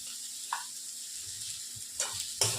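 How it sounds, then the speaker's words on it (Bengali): Samosa filling with salt and turmeric powder fries in a pan, a soft steady hiss with a few brief scraping stirs, quiet and close. "এবারে ভালো করে কষিয়ে নিই"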